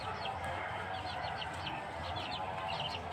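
Young Sweater Kelso gamefowl chickens at a small breeder's yard in Bohol cluck and chirp in a dense, continuous chorus, close and moderately loud, with no talk.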